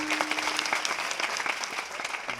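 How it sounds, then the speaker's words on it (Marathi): An audience at a kirtan during a Shivaji birth anniversary celebration claps together, a dense burst of applause lasting a couple of seconds with no voices over it. "टाळ्या वाजवा."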